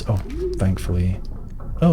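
A pigeon in the Dovecote room of the video game Blue Prince gives a brief, soft coo, heard under and between a man's spoken exclamations.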